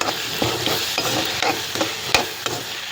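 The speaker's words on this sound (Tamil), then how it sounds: "ஸோ இது நல்லா எண்ணெயிலேயே வதக்கணும்" Sliced eggplant sautés in hot oil for kathirikai kaara kulambu, a steady sizzle broken by repeated scraping stirs of a spatula against the pan, close and fairly loud, with no talking.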